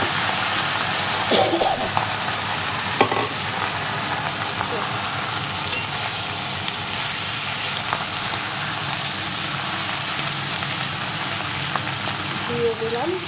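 Cauliflower stalks, potato and beans frying in a pan with a steady, close sizzle that holds throughout, broken by a few faint clinks of stirring.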